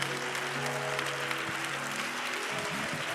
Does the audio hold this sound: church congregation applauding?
yes